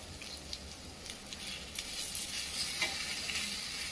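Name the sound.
onion and tomato sizzling while sautéing in a pan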